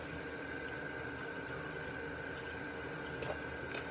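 Tap water runs steadily into a sink while pork chops are rinsed with water and vinegar, a continuous close splashing flow with no talking.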